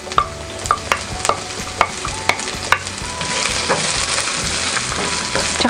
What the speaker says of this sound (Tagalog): igigisa lang po natin to ng konti